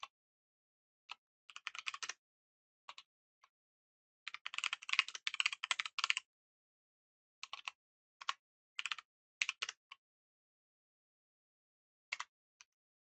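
Code being typed on a computer keyboard, quick bursts of close, crisp key clicks separated by short pauses, with longer runs of rapid strokes in the middle.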